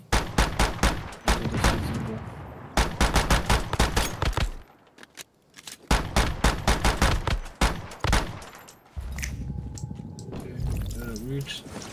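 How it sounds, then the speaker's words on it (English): A shotgun fires in the survival shooter game Once Human, sharp close blasts in rapid clusters with short pauses between volleys, mixed with game effects and brief talk near the end. "Shotgun."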